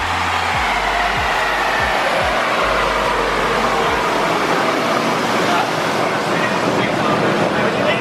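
Turbocharged BMW E36 engine run hard on a dyno: a loud, continuous roaring rush with a broad airy whine, steady throughout and close, with a few low thumps early on.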